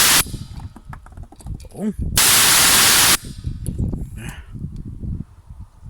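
Hawk Tools twin V 100-litre, 3 HP garage air compressor hits its automatic cut-off with a sudden loud hiss of released air lasting about a second, amid nearby clatter and a brief voice.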